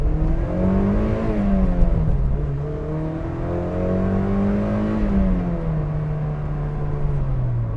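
Mazda NC Miata engine revving up and down through gears, a continuous close engine note with rising and falling pitch sweeps and no talk.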